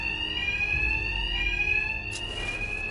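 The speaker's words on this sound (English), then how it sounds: "My attacks will be covered by the noise of the alarm." A fire alarm rings in the Batman Arkham Knight video game, a continuous loud electronic tone that holds steady and then brightens near the end, with no voices.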